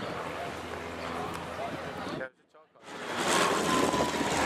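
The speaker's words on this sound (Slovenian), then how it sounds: "Na Trgu Svobode že nestrpno pričakujemo letalo, ki bo vsak hip podvrglo karte za motokros." A propeller airplane drones overhead above a crowded town square, Trg Svobode, where it is expected to drop motocross tickets. The engine hum runs steadily, cuts out briefly in the middle, then returns louder amid crowd voices.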